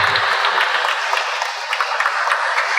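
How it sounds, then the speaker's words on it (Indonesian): Guests at a Catholic church wedding ceremony break into loud, sustained clapping that fills the space evenly for the full few seconds. "Silakan tepuk tangan."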